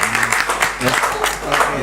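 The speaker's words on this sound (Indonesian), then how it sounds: "kasih tepuk tangan dong, yang lain dong" A church show crowd gives a short burst of clapping mixed with a speaker's voice, brief and fairly close.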